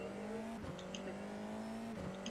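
Formula F4 race car engine in the iRacing sim game, held at steady revs before a race start, with two brief dips in pitch; a continuous loud drone throughout.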